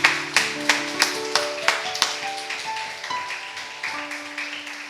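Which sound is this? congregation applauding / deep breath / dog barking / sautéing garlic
congregation applauding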